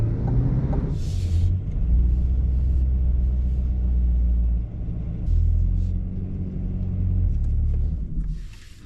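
Chevrolet C8 Corvette Coupe pulling slowly into a garage, a steady low engine rumble that swells and eases at close range, with no one talking.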